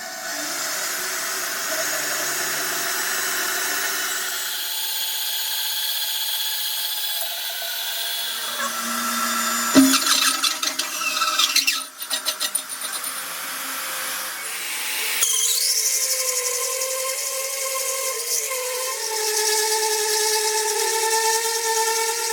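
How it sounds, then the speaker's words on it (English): A power drill whirs in several bursts, its pitch rising and falling as it bites, with short pauses and a sharp clatter between runs. "let's drill some holes"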